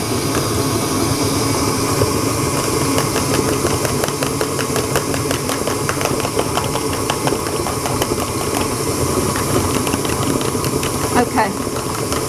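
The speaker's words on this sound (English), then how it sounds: "again give that a little whisk up" An electric hand whisk beats a second cracked egg into choux pastry dough in a tub, its motor giving a steady, close, loud whirring drone that runs without a break.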